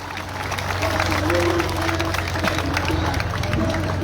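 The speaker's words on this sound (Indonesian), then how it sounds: "coba tepuk tangan sekencang-kencangnya atas apresiasi dan hormat kita pada rakyat" A crowd claps and cheers in a dense, steady wave of applause, with voices mixed into the noise, at an outdoor labor union protest rally in Indonesia.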